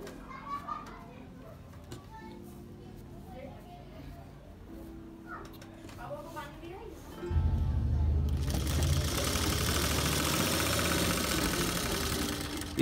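A sewing machine stitches a Lucknowi gharara panel set with stones, its motor starting partway through as a loud, steady whirring drone that holds to the end, following quieter room sounds and faint voices.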